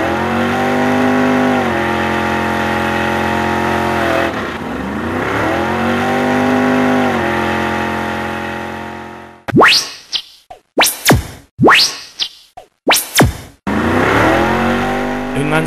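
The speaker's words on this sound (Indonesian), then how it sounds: "satu kali dia mendengar suara truk sedang mendaki ke atas" A loud truck engine drones steadily while climbing uphill, its pitch rising and falling as it strains, then gives way to several sharp, quick roaring passes with brief gaps between them.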